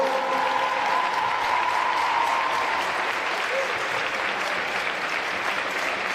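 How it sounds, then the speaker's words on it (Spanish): A large audience at a regional group show roller skating championship breaks into loud, sustained applause, a dense and even wash of clapping with crowd noise mixed in throughout. "Un forte aplauso para todos."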